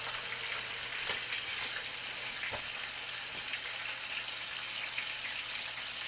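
Cornmeal-crusted mountain trout fry in a pan with a steady, fine sizzle and a few soft clinks and scrapes, moderately quiet and close.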